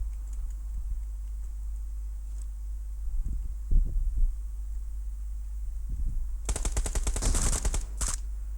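Gunfire in a PUBG Mobile firefight, a rapid automatic burst crackling for about two seconds followed by a brief second burst, preceded by a low steady drone and a few soft thuds.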